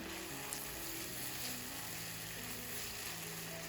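Ginger garlic paste fries in hot oil with bay leaf and cardamom for a Bangladeshi hotel-style rui fish curry, giving a steady, soft sizzle with faint scrapes of stirring and no talking.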